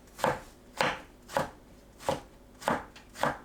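A knife cuts eggplant into 0.5 cm strips on a cutting board: six crisp, evenly spaced chops, close and clear, with quiet pauses between strokes.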